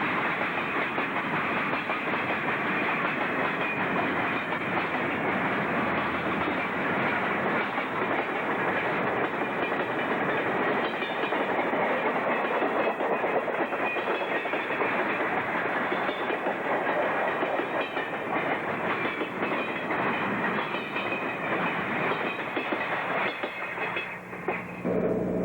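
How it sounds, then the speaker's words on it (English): Ontario Northland southbound freight 308, led by engines 1806 and 1803, rolls past in winter on the Kirkland Lake subdivision, a loud, steady roar of wheels and cars with rhythmic clatter sustained for the whole pass. "southbound freight number 308 goes by with engines 1806 and 1803"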